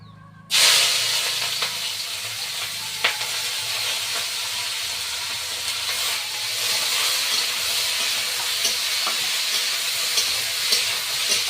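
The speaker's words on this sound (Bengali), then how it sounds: "তেলটা গরম হয়ে গিয়েছে ধোঁয়া উঠছে কিন্তু খুব তো এবার সজনের ফুল আর আলুটা দিয়ে দিচ্ছি" Drumstick flowers and potato pieces hit smoking-hot oil with a sudden loud sizzle that keeps going as a bright, steady hiss, with a few small pops and no talk.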